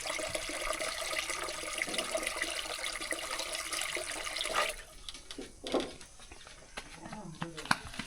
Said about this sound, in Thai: นี่น้ำมาจากแท่งน้ำเด้อพี่น้องบ่เป็นน้ำประปาเด้อ